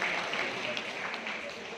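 An audience claps steadily at an award ceremony, with a voice speaking faintly over the dense applause.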